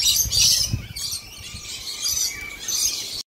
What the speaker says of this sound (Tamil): இதில் வந்து எக்கச்சக்க விதமான பறவைகள் இருக்குது.